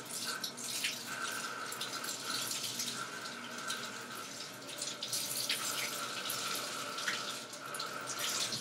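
Tap water runs steadily into a sink while a facial cleansing brush head is rinsed under it, a close, continuous hiss and patter with slight splashing changes, no voices.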